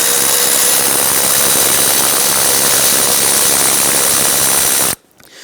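Power tool spinning loose an 8mm bolt on the radiator fan assembly of a 2011-2019 Ford Explorer, a loud steady whirring drone lasting about five seconds, then cutting off abruptly to quiet.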